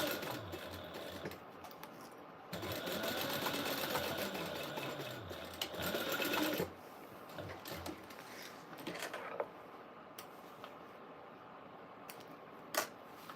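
A sewing machine bastes an exterior fabric seam at a quarter inch, stitching in a fast steady whir that runs in bursts with short pauses and clicks between runs, close and clear with no talk.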